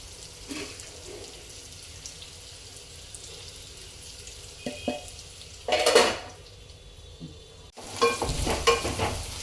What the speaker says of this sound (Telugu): మీడియం ఫ్లేమ్లో పెట్టుకొని మనం కలుపుకుంటూ ఉండాలి